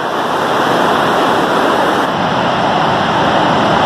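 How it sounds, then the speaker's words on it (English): A loud, steady roar of heavy water crashing down nearby at Myrtle Falls, continuous broadband rush with no pauses and no voices. "That is a lot of water coming down."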